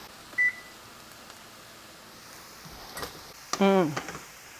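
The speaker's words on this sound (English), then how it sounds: "I'm going to go ahead and start preheating the oven, 350 for 45 minutes." An oven beeps as its preheat is set to 350: one short tone, then a few soft clicks and a louder, longer electronic chime near the end, close by in an otherwise quiet kitchen.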